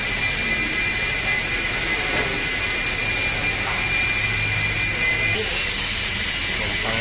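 A Rosalia Indah Avante bus engine runs at a steady idle during servicing, a loud, constant droning roar with a high whine on top and faint voices in the background.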